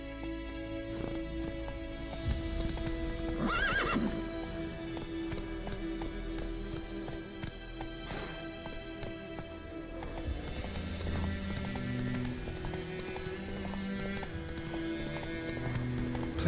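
Roach the horse gallops in The Witcher 3, rapid rhythmic hoof clip-clops over a layered game soundtrack, with a brief whinny near the start.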